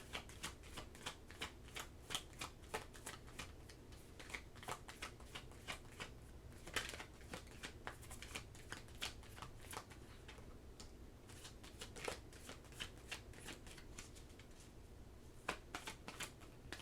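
Tarot cards shuffled by hand in rapid riffling bursts, crisp flicking and slapping in an irregular rhythm, close and fairly faint, with no voices.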